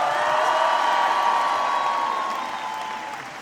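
A concert crowd applauds and cheers for the opening act, a dense steady wash of clapping that slowly tapers off, with a sustained tonal hum running through it.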